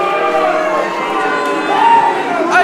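A wrestling crowd section jeers at Jarvis, a dense loud mass of shouting and yelling voices with a rising burst near the end.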